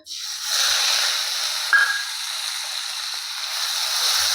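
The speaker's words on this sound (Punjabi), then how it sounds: "ਤੇਲ ਗਰਮ ਹੋ ਗਿਆ ਤੇ ਥੋੜੀ ਜੀ ਪਾ ਦਾਂਗੇ ਆਪਾਂ ਹਿੰਗ ਫਲੇਵਰ ਵਾਸਤੇ ਅੱਧਾ ਕੁ ਚਮਚ ਪਾ ਦਾਂਗੇ ਆਪਾਂ ਸਾਬਤ ਜੀਰਾ ਜੀਰੇ ਨੂੰ ਆਪਾਂ ਭੁੰਨ ਲਿਆਗਾ ਤੇ ਹੁਣ ਆਪਾਂ ਪਾ ਦਾਂਗੇ ਪਿਆਜ਼ ਦਾ ਪੇਸਟ" Onion paste added to hot mustard oil with cumin and hing in a wok, giving a steady loud sizzling hiss that starts abruptly and holds throughout, alone without talk.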